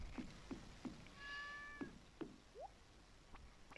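Cat meowing in Stardew Valley, heard as a short, faint meow among soft, regular game tapping and a brief chime, fairly quiet overall.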